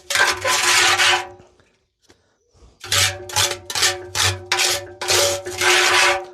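A tool scrapes lime mortar out of a mixer drum in a series of harsh, gritty rasping strokes, one long scrape, a short pause, then several quick repeated scrapes close up.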